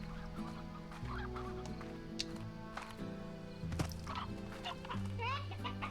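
Rooster in the game Slime Rancher, a series of clucks and short squawks over a sustained musical background, with brief faint chirps near the end.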